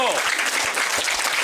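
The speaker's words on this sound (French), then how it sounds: "On applaudit très très fort." An audience at the Kéla festival applauds loudly in a brief, dense burst of clapping, with a voice carrying over the start.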